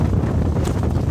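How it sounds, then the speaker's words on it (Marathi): Strong gusts buffet the microphone out in a forest, a dense low rumbling roar that stays loud and close throughout the short moment, with no clear voices. "वारा खूप आहे"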